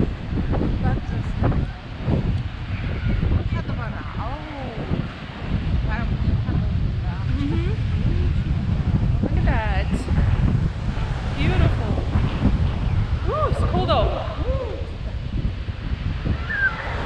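Strong wind blows steadily across the microphone on an Ireland coastline along the Ring of Kerry, a broad low rumble throughout with people talking intermittently over it.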